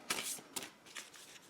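A deck of cards for the Eldritch Horror board game is shuffled by hand, a few quick riffling bursts of crisp papery flutter, close up with no talking.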